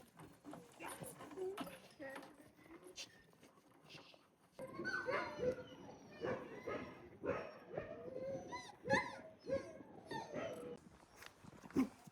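Sled dogs of a team in the world's northernmost town yelp, bark and whine excitedly in a restless chorus, growing busier partway through, while a person talks over them.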